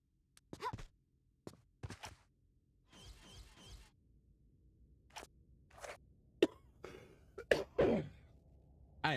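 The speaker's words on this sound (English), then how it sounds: "I am so sorry for all the coughing," A person coughing and clearing their throat indoors, a scatter of short sharp bursts and rougher fits spread irregularly across the span, close to the microphone with quiet pauses between.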